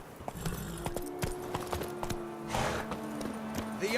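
Roach the horse gallops in The Witcher 3, with a rapid, quiet clip-clop of hooves over a game soundscape of tonal hums, with a brief whinny-like swell midway.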